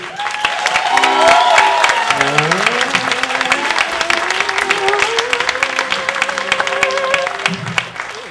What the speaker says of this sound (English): keep that applause going for Justine